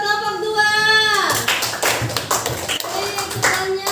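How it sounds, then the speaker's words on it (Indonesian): A short burst of clapping from a middle school class breaks out after a spoken voice, scattered and fairly close, with talking resuming over it. "Tepuk tangan buat kelompok 2"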